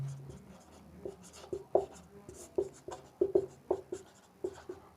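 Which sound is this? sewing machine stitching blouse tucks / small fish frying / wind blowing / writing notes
writing notes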